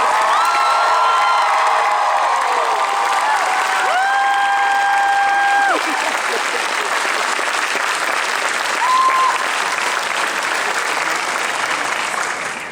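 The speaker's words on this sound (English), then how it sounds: "Big round of applause for Ksenia Solo" A large fan convention crowd greets an actress with sustained loud applause and high cheers and whoops, a dense roar that holds steady for several seconds before easing slightly.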